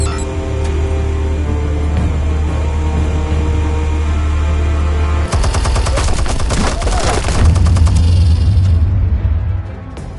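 Explosives detonate in a Batman video game, a sustained burst of crackling blasts and debris that swells partway through over a steady low game rumble and music bed.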